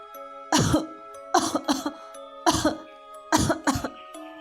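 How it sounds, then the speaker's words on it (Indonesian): A person coughs in short, rough bursts, four or five fits spaced a second or so apart, close and fairly loud against a faint hum. "terdengar suara orang terbatuk-batuk"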